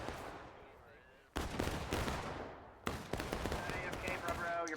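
Bursts of massed musket volleys and cannon-like booms roll out in a Civil War battle video game, two sharp onsets leading into sustained crackling fire that fades and swells again.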